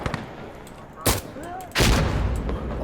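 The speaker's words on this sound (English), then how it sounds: "that was a grenade" A grenade in the video game Insurgency Sandstorm goes off amid gunfire: a sharp blast near the middle, then a heavier boom with a lingering rumble, over scattered shots and game noise.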